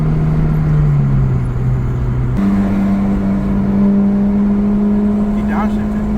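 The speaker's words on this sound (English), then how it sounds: "He downshifted." A Ford Focus SVT/ST170 or Honda Civic Si engine drones at steady revs during a street race, then drops and shifts pitch to a new sustained tone as the driver downshifts, loud and close.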